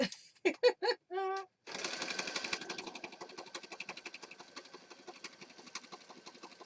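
A sewing machine stitches lace onto a junk journal with a fast, even run of mechanical needle strokes that follows a few short opening bursts of sound.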